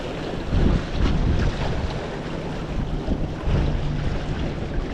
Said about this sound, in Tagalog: Malalaki po ang isda dito. Lakas ng agos, oh.